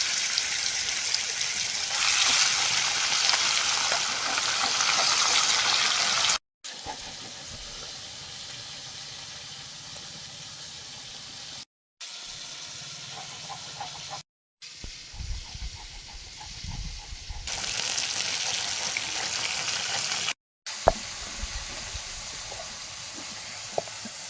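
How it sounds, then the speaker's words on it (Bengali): Tuna pieces fry in oil with a hissing, bubbling sizzle broken by short gaps of silence, moderately loud and close, with occasional clinks and no speech. "এবার টুনা মাছগুলো ভেজে দেবো।"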